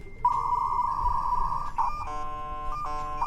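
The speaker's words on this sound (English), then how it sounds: "Modem sounds." Dial-up modem handshake noise in the Goodbye Deponia video game, a steady electronic tone that breaks into warbling, layered beeps and chirps, fairly close and clear for a few seconds.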